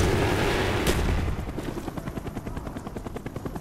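Huey helicopter in the Call of Duty: Black Ops video game, a loud rotor wash with a sharp burst partway through, then settling into a steady rhythmic chop of thumping blades.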